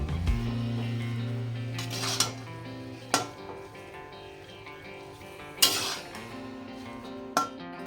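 A spoon scrapes and clanks against a pan while potato filling with masala and salt is stirred, sharp metallic knocks standing out over a steady low hum, with no talking.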